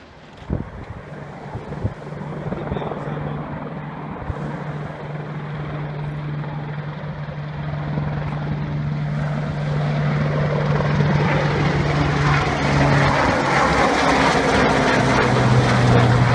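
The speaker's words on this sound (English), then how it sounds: "he filmed this Sea King helicopter flying the wall with radar" A Sea King helicopter flies along a sea wall, its rotor thrum growing louder as it approaches, with gusty wind buffeting the microphone throughout.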